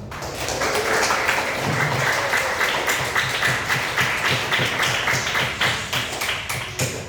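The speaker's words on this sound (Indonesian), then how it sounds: "untuk hari ini kita tepuk tangan dulu." A classroom of students clapping their hands in applause, a dense, fast, close patter of many claps that holds steady and then thins out into uneven bursts, with no voices over it.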